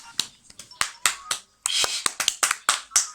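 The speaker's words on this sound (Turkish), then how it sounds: "Alkış efekti alabilir miyim?" A short run of separate sharp claps, sparse at first and then coming quicker, plays during a Pokémon video game stream, as a played-in applause effect.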